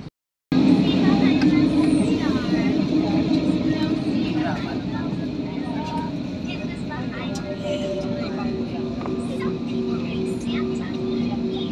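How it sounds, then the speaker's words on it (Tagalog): Passenger airplane cabin in flight to Mindanao, filled with a loud, steady, broadband engine drone that continues unbroken after a brief silent start. "Dito na kami sa aeroplano."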